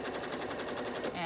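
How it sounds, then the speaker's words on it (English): A sewing machine stitches quilt fabric along a marked line for a geese-block quilt, giving a brief, fast, steady run of rhythmic needle clatter close by. "I'm just sewing right on the line"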